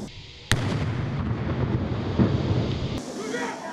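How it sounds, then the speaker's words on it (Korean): A water bottle charge set off by a military explosive disposal team makes a sharp, loud blast, followed by a sustained rumbling roar and a second, smaller crack near the end. "폭발물을 안전한 곳으로 이동시켜 물병 폭약을 이용해 폭발물을 제거합니다"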